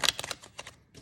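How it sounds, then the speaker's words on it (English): A tarot deck shuffled by hand, a quick run of soft papery riffles and flicks over about a second, close and fairly quiet. "Do one more shuffle,"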